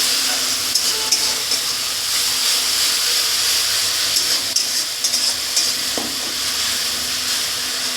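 Potatoes and mustard paste with tomato and salt being stirred in a pan for a Bengali fish dish, giving a steady soft sizzle and hiss with occasional scraping of the spoon, close and continuous, with no talking.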